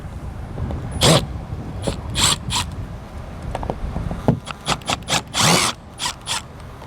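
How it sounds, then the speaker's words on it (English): A power drill backs screws out of a light cover on a 2022 Keystone Passport RV, running in several short, close whirring bursts separated by brief pauses. "Let's go ahead and take our screws out."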